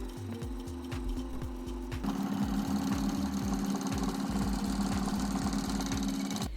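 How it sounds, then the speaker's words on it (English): Embroidery machine stitching through layers of fabric and transparent material held in a hoop, a steady rapid mechanical chatter that grows slightly louder and denser partway through, running continuously with no talk. "I'm doing a stitch."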